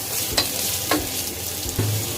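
Cauliflower, peas and broccoli are stirred in a soup pot, with a spoon scraping and clinking in a few distinct strokes over a soft, continuous sizzle.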